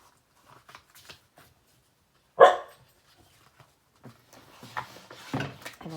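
A dog gives a single sharp bark, fairly loud and close in a quiet room, amid soft shuffling of papers and small handling noises that build toward the end.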